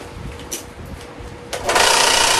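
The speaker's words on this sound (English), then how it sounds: "This is officially the loudest belt sander in the world" A belt sander, used on a bass guitar neck, starts up partway through with an abrupt burst into a loud, harsh, high-pitched whine that holds steady to the end.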